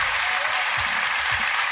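A studio audience at a Peruvian television entertainment show claps loudly, a dense, steady burst of applause with no pause.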